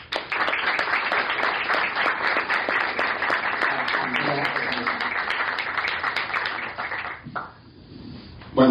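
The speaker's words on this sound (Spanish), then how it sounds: "Yo quisiera también que reciban con un aplauso a Leandro Buzón" Audience at a political event applauding to welcome a speaker to the stage, a steady, dense round of clapping lasting about seven seconds before fading into room quiet.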